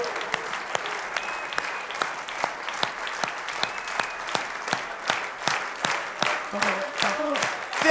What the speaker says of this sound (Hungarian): Neked szól ez a taps